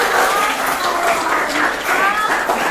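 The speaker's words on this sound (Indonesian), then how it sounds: "beri tepuk tangan dong" A mathematics class applauds a group after their presentation, a loud, dense patter of clapping from students, with voices and chatter mixed in throughout.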